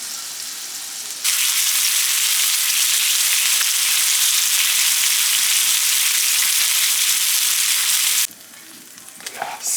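Steaks searing in butter in a pan give a loud, steady sizzle that swells sharply after a quiet start, holds at full strength for several seconds, then drops back to a softer crackle with no talking.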